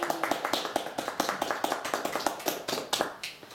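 Round of applause from a small audience at a blacksmithing group talk, a steady patter of hand claps with sharp individual slaps, fading out after a few seconds.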